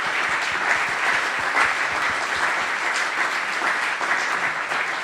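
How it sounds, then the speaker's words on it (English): Steady, dense applause from a lecture audience at a talk on culture, heritage and climate, holding at an even, fairly loud level with no pauses or voices. "Okay, last applause for 4 of you,"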